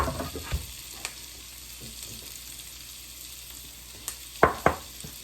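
Chopped onions and garlic with thyme, salt and pepper sizzle steadily in a pan for mushroom risotto, a constant close frying hiss broken by a few sharp utensil knocks near the end.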